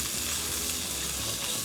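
Lamb pieces pan-fry in a wok, giving a continuous, even sizzle that stays steady and moderately quiet throughout, with no voices.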